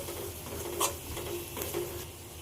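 Red chili powder and turmeric sautéing in hot oil make a soft continuous sizzle, with faint scraping stirs and a few light clicks, quiet and close, no voices.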